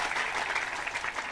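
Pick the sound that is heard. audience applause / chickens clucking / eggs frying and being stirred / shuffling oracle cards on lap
audience applause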